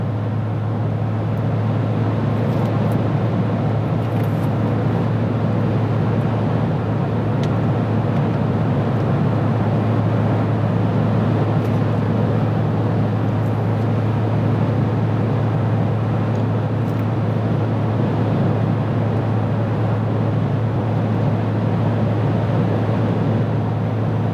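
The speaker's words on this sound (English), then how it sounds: "The engine's pretty noisy. There's a lot of wind noise." Steady, loud cab drone inside a 2021 Toyota Tundra on the move, with a strong low engine hum and a broad rush of wind noise running unbroken and even throughout, no voices.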